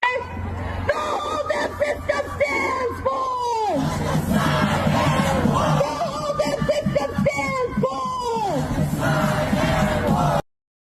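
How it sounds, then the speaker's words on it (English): A large crowd screams and yells at a rally, a loud continuous roar of voices with repeated rising shouts and whoops throughout, ending abruptly. "they're screaming, they're rallying"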